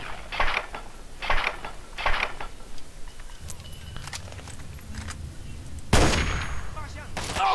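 Gunfire at a Chinese soldier in the video game Fallout 3, with three loud evenly spaced shots, then mechanical clicks and a rumbling, and a final sharp blast near the end.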